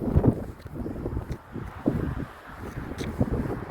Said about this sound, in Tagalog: Pero hangin siya.